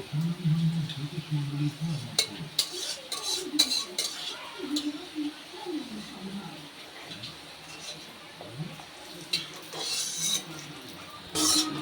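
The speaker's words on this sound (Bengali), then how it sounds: "এবার কিন্তু আমি গ্যাসের আগুনটা বন্ধ করে এগুলোকে তুলে নেব" Spoon scraping fried garlic, dry chillies and nigella seeds out of a pan after the gas flame is turned off, with scattered metallic clinks and scrapes under a voice talking.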